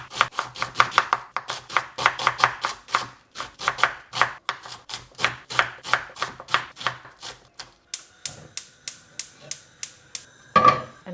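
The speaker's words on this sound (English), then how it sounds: "2 medium-sized onions, and I'm literally just going to roughly chop it" A knife roughly chops two medium red onions on a board in a home kitchen, giving a steady run of close, crisp thuds for most of the stretch, then a few sparser, lighter cuts near the end.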